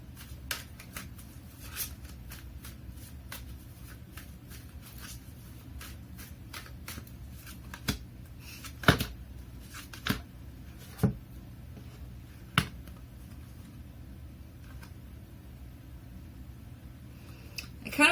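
Tarot cards are shuffled by hand over about eighteen seconds, giving soft continuous riffling with scattered sharp snaps and clicks as cards strike together, fairly close and with no talk.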